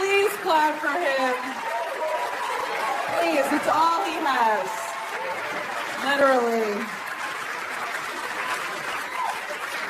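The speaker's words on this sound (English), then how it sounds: "Mark Norman, please clap for him." A comedy club crowd applauds for a stand-up comedian, a steady wash of clapping and chatter running beneath a host talking over a microphone.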